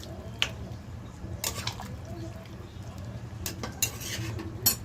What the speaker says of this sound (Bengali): গরম মশলাটা দিয়ে একটু নাড়ানাড়ি করে নিচ্ছি।